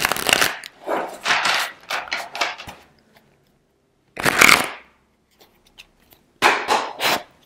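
Tarot cards being shuffled for a chakra reading, several brisk riffling bursts separated by pauses, close and fairly loud with no talk.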